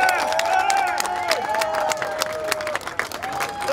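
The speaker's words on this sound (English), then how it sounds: "Please give us some applause for Joe Kent." A crowd at an outdoor political rally for a congressional candidate applauds loudly and steadily, with whoops and cheers rising above the clapping throughout.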